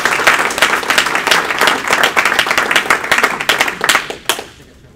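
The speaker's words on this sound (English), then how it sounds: "Let's give Sam a round of applause." A morning meeting audience gives Sam a loud burst of applause, many hands clapping densely up close before it thins out and fades over the last second.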